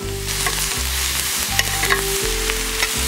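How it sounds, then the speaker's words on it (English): Hamburger meat and tomatoes fry in a pan with a loud, close, continuous sizzle, broken by a few quick spatula strokes and brief scraping stirs. "cook my tomatoes with my hamburger meat"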